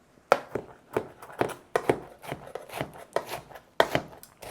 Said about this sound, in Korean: 칼질